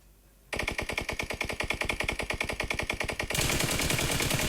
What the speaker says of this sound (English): Assassins Esports now firing upon the 300 Aragvelli team